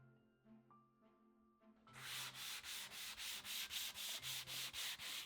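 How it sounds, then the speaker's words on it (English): Hand sanding of painted wood with 220-grit sandpaper, a soft hiss that starts after about two seconds of quiet room sounds, then settles into regular back-and-forth rasping strokes, close and steady, with no talking. "we're going to give it a little bit of stressing just using 220 sandpaper, smoothing it out and going around the edges"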